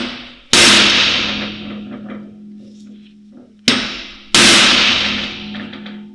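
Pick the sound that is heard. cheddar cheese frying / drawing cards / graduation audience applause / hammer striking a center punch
hammer striking a center punch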